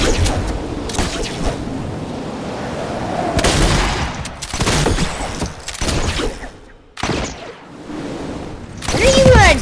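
Gunfire from a Fortnite match crackles in scattered bursts and single shots, loud and close, with a person talking in between volleys.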